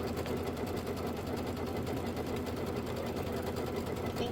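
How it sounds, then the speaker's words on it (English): Embroidery sewing machine running a placement stitch for a quilt block, a fast, steady mechanical whirring and needle chatter that continues evenly throughout at moderate, close-up volume. "let's go ahead and do our placement stitch"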